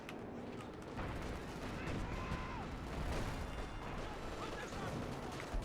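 Artillery fire in Company of Heroes 2 on the Hill 400 map in a 4v4 battle: a continuous low rumble of distant booms and gunfire, dense and sustained, with soft talk underneath.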